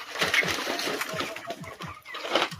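Many chickens on a poultry farm make a dense, busy commotion close by, overlapping clucks with rapid scuffling and flapping bursts that come and go throughout.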